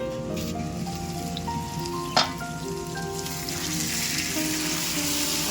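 Kochur loti simmering with a fish head in an uncovered pan, a steady close sizzle and bubbling that swells louder after a brief clatter midway, with no talking.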